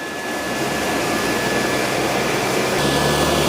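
A Dyson 360 robot vacuum runs over a cord with a loud, steady whirring drone that shifts slightly in tone near the end.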